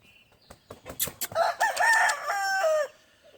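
On a gamefowl farm, a rooster crows once in a long, clear, ringing call, preceded by a scatter of short clucks and scratchy farmyard noises nearby.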